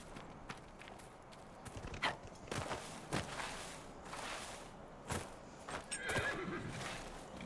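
A horse in Dragon Age: Inquisition whinnies and clops its hooves in the Emerald Graves, with several uneven hoofbeats and a neigh heard alone at moderate level.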